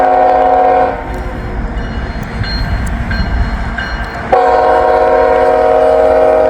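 A Norfolk Southern train rumbles past close by, its horn sounding loudly and sustained at the start, then again from the middle to the end over the heavy rolling noise of the cars.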